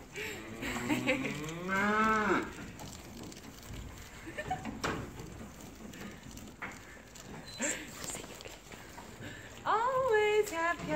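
Cattle give long, drawn-out moos, loud and close, with one call near the start and another near the end and quieter background sound between them.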